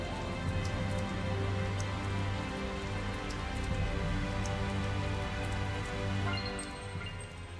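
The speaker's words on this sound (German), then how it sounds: "Aber dass es hier nur am Regnen ist, das ist schon merkwürdig." Rain falls steadily in the video game Tales of Zestiria, a soft continuous patter mixed with background music.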